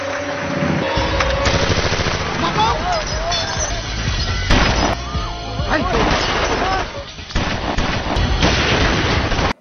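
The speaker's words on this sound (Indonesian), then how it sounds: "Di tengah baku tembak antara penjahat dan pihak keamanan" Movie gunfire rattles through a gunfight between criminals and security guards, with loud bursts of shots and crashing impacts mixed with music and voices throughout.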